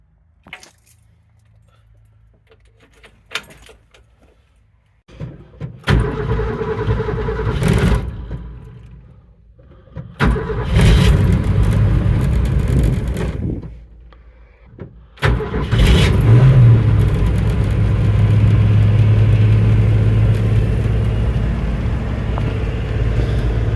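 A 1962 Mercury Comet engine, first started in 48 years, cranks and catches a few times, then settles into a steady, loud idle, with a brief jingle of keys near the start.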